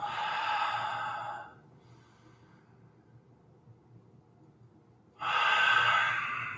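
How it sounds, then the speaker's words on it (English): Slow, deep breaths during a Bikram-style yoga session: a long audible exhale, a quiet pause of several seconds, then another strong, breathy exhale close to the microphone. "Deep breathing."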